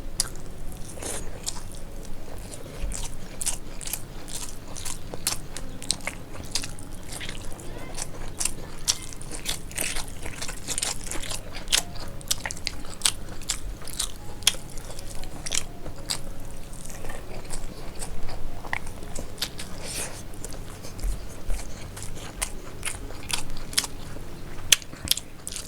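Someone eats winter vegetables with fluffy, separate-grained rice, giving steady close crunchy chewing and biting sounds with sharp clicks throughout, no talking.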